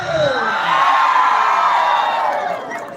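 A crowd at a night concert cheers and whoops loudly for several seconds, with high shouts and yells rising over a broad wash of noise that fades slightly at the end.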